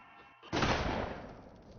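A single loud shotgun blast in a short film erupts suddenly after a quiet, muffled lead-in, then rings and decays over the following second.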